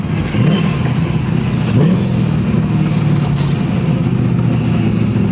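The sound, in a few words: LSX-swapped 1977 Datsun 280z engine driving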